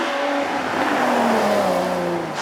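Ferrari F12 Berlinetta V12 engine revving loudly and continuously at close range on a track, a sustained high-pitched roar that slowly falls in pitch as it pulls away.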